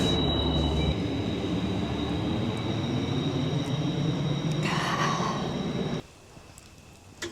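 A train rumbles past close to a campsite, a steady loud roll of wheels with a faint squeal, then cuts off abruptly into quiet.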